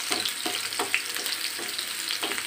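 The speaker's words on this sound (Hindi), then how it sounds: "अब इसमें हम ऐड कर देते हैं प्याज। इसको अच्छे से फ्राई करेंगे।" Onions frying in a pan with cumin, giving a continuous close bright sizzle with soft periodic stirring scrapes and no talking.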